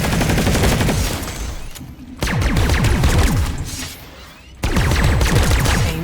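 Sustained automatic gunfire from weapons in the Planetside 2 shooter game, loud and dense with rapid bursts, two brief pauses breaking the fire before it resumes at full intensity.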